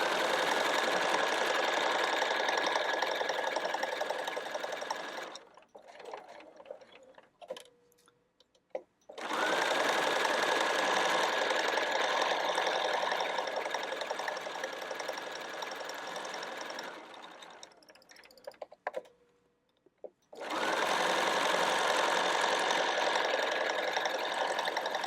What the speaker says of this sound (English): So I'm just sewing this on with 1/4 inch seam allowance, and I'm going to back stitch right there.